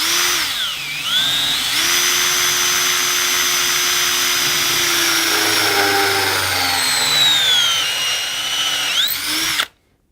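A drill fitted with a Trend plug cutter bores a wooden plug, whining loudly and steadily for about ten seconds with shifting pitch as it cuts, then stops abruptly.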